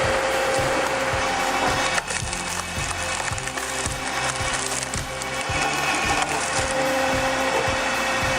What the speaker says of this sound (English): with hydraulic pressure, the stump tears apart in a controlled way